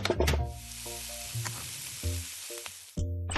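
A cartoonish sizzle of food frying in a pan in Dr. Panda Restaurant 2, close and bright, set among short chimes and pops of game music, with a burst of interface sounds at the start and again near the end.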